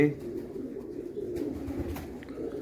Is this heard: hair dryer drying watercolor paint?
no